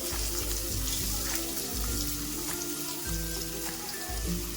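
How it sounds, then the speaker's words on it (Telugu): Chopped onions and green chillies frying in a pan give a steady, dense sizzle that carries on throughout with faint clinks, and no one speaks. "ఇలా బాగా వేయించుకోవాలి ఉల్లిపాయలు."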